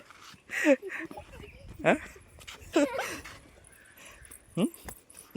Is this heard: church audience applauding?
no